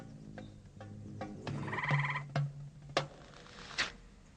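A frog calls in a garden, its croaking notes somewhat mammal-like, heard as a few short guttural pulses and trills spaced over a few seconds, fairly faint against quiet background.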